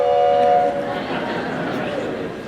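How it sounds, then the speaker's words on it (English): A Meyer Wurlitzer theatre organ plays its train sound effect: a brief steady whistle-like tone opens over a rumbling, chugging wash of noise that carries on loud and steady to the end. "The damsel in distress is tied to the railroad tracks and the train's coming in."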